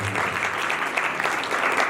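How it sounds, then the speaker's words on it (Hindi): Church congregation applauding during a sermon, dense steady clapping filling the whole short stretch with no talk over it. "जोरदार ताली चाहिए"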